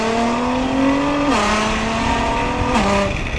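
A 600-wheel-horsepower 2009 Nissan GT-R R35 pulls hard from inside the cabin with windows down, its loud engine note rising through two gear changes with a brief dip at each shift, steady and close with no talking.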